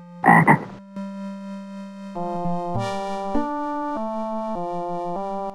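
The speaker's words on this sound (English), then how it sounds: "A frog goes." In the Kids Zoo: A Baby Animal Adventure MS-DOS game, a frog gives a brief, loud croak, then a plinking synthesized melody follows.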